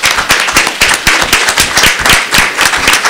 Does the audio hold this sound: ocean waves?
no